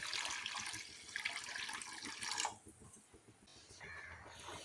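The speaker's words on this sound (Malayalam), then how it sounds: "1 കപ്പ് വെള്ളം ഒഴിക്കുക." A cup of water is poured into a pot of sugar while making mango squash: a soft, steady splash for about two seconds that then stops, leaving a quiet room.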